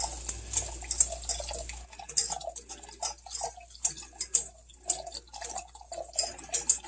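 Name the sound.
warmed milk being poured slowly into cheese sauce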